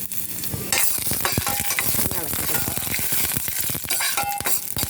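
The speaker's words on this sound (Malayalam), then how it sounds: "വെളിച്ചെണ്ണ നന്നായിട്ട് ചൂടായി കടുക് ഇട്ട് കൊടുക്കാം" Dense crackling sizzle of mustard seeds popping in hot coconut oil, steady and close throughout, with scattered sharp pops and faint stirring clinks.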